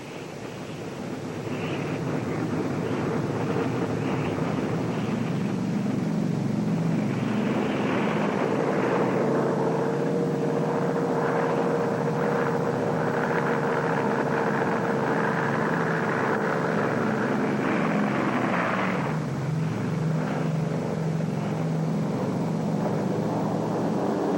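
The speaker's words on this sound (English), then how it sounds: "Radar has picked up large formations of Japanese planes. The fleet reinforces its combat air patrol." Droning WWII aircraft engines as Japanese planes approach a fleet and its combat air patrol, a steady loud propeller roar that swells and holds throughout with no talk.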